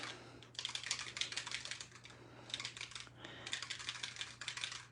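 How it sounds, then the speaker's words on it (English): A mixing ball rattles inside a paint bottle as it is shaken, giving close, rapid clicking rattles in two long bursts separated by a brief pause. "So you can hear that mixing ball"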